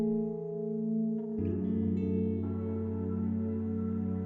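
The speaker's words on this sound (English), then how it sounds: "A little bit much reverb." Sustained guitar chords wash out in heavy reverb from Logic Pro plugins, notes blurring into a thick, shimmering ambient drone that holds steady throughout.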